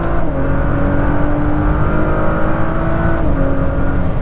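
A 2018 Chevrolet Corvette ZR1 engine pulls hard under acceleration, a loud, steady rising drone heard from inside the car, with no talk.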